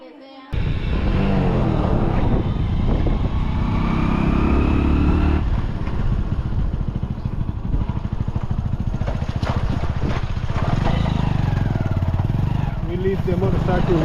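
A motorcycle engine runs steadily close by, a low continuous rumble with wind noise, while people talk over it.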